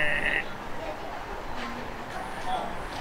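A person briefly imitates a sheep's bleat with a short nasal voice over background noise and talk.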